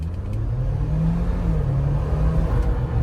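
A Jeep Wrangler JL 4xe accelerates hard in hybrid mode on a slick road, a steady low rumble and whir heard from inside the cabin, rising slightly in pitch as speed builds.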